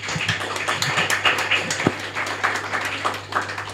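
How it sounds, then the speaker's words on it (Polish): An audience at an open-air libertarian picnic applauds a speaker, a steady bed of dense clapping with crisp individual claps standing out, fairly loud and close, with a low constant hum underneath. "Wielkie brawa"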